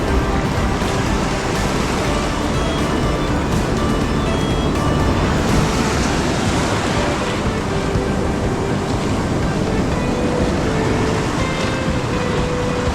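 Strong ocean waves around a small fishing boat in rough seas, a constant loud wash and rumble of surf with wind, dense and unbroken for the whole stretch.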